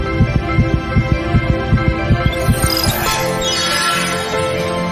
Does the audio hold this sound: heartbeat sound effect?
yes